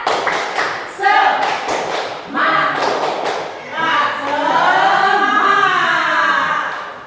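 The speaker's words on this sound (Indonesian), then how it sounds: "Sebelumnya untuk menyemangati kita tepuk semangat." A group of adults in an Indonesian teacher workshop performs a rhythmic spirit clap, tepuk semangat, with patterned bursts of clapping interleaved with chanted voices, close and lively.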